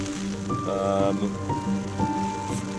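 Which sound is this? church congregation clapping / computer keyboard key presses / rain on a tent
rain on a tent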